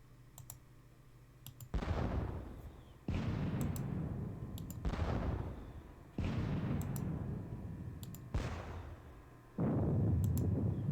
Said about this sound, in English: We'll give off another barrage of artillery.